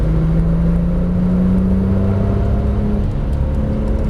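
Porsche 997 Turbo S engine at steady throttle on a Las Vegas race track, a continuous loud whirring drone with low rumble and slowly rising pitch, no voices.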